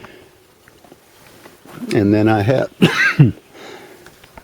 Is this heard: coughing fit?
yes